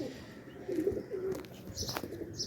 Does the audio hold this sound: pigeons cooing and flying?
yes